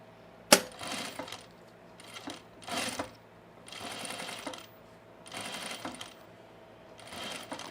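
Domestic sewing machine stitching a sunblock top, running in several short bursts of a few seconds each with pauses between, close and fairly quiet, with a sharp click near the start.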